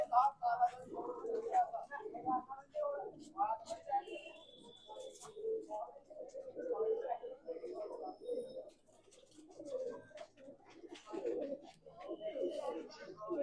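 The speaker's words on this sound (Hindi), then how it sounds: "ये देखिए एक से एक हसीन लाजवाब कबूतर है" Madrasi pigeons coo in soft repeated throaty bursts, close by, while someone talks over them almost throughout.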